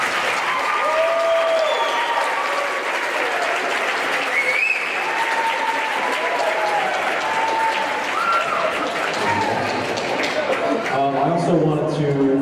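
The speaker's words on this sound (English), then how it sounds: "Round of applause for all of them." Sustained audience applause for middle school instrumental music students at an evening school concert, a steady dense wash of clapping throughout with some voices and whoops mixed in near the end.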